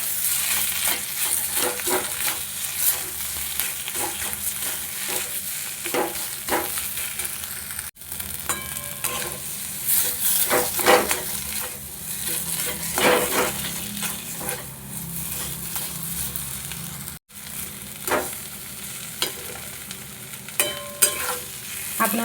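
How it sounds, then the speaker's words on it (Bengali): Coriander and cumin powder stir-fried in a pan, a continuous sizzle broken by repeated scrapes and clinks of a spoon against the metal, loud and close throughout. "1/2 চামচ ধনে গুঁড়ো, 1/2 চামচ জিরে গুঁড়ো, দিয়ে এটা খুব ভালোভাবে কষাবো।"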